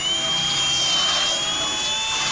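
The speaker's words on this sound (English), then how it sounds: "wire wheel" A wire wheel strips paint off a car fender during rust repair on a Chevelle. It makes a loud, steady, close high-pitched whirring whine with no talking.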